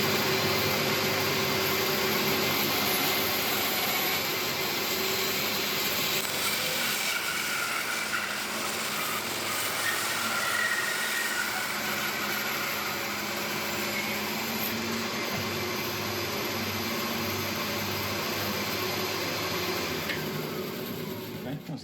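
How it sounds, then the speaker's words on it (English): A bandsaw cuts steadily through a resin and wood blank, a continuous hissing whine that holds level for about twenty seconds with a high tone dropping out briefly in the middle. "get this across the bandsaw and cut off this whole side"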